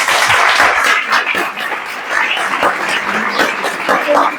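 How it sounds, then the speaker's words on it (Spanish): Audience at a talk breaks into sustained clapping, a dense, even wash of hands that stays loud and close for several seconds with no speech over it. "Un aplauso."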